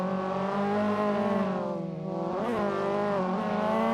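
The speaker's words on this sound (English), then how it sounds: "I heard that little clutch kick." A drifting car in the racing game Assetto Corsa holds a sustained engine drone, then its pitch dips and jumps in a quick rev spike as the clutch is kicked, before settling back into a steady whine.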